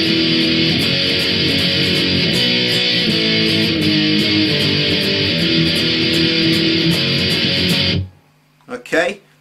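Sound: A song's chorus on electric guitar

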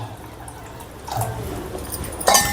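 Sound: water poured into a cooking pot

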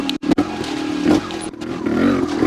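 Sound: Vertigo Nitro 300 trials motorcycle engine riding uphill

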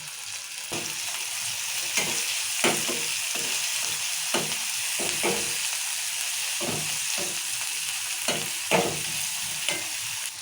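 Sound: frying chillies, tomato, mint and coriander in a pan

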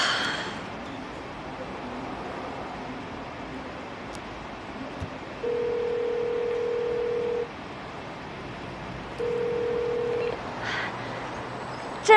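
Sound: telephone dial tone while calling someone

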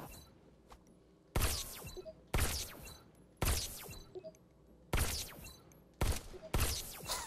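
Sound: pistol gunfire in a video game

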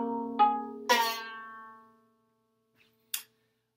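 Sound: plucking out-of-tune strings of a string instrument

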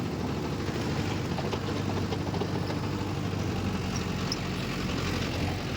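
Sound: Mahindra Yuvo tractor engine working rotavator

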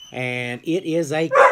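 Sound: dog barking

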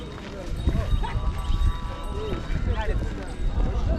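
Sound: bullock cart hooves clip-clopping

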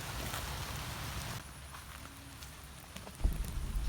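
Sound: rain falling on an oil palm plantation

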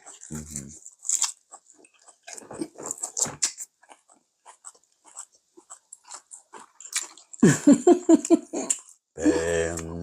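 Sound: eating salt-grilled eel, mukbang

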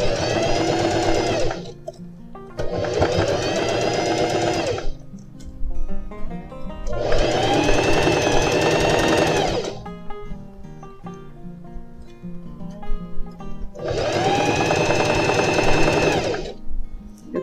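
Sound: sewing machine stitching a seam on jeans

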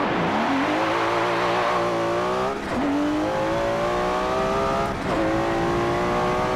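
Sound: Nissan GT-R R34 accelerating from second gear in the video game Forza Motorsport 7

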